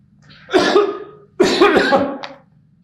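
Two heavy, close coughs, one after the other with a short pause between, loud and raspy.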